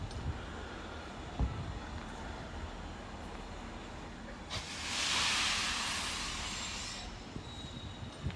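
Steam locomotive working at Paignton, a soft rushing hiss and distant rumble of the train, swelling into a loud burst of escaping steam midway before easing back, with faint clanks and squeals.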